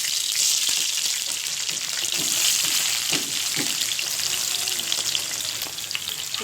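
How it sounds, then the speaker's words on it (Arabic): Onions fry in oil in a pan as the base for Egyptian koshari, giving a constant bright sizzle and crackle with occasional soft stirring knocks. It plays alone, with no voices. "الزيت بتاع البصل ده يا حبايبي هو اساس عمايل الكشري. وهنحمر البصل"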